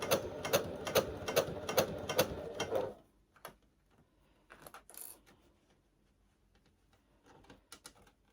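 A sewing machine stitches a garment with a fast even run of mechanical clicks for about three seconds, then stops, leaving faint handling rattles and scattered small taps.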